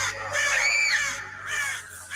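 Harsh caws from a crow, three drawn-out rasping calls in succession with short gaps between them, loud and close against a quiet background, with no talking.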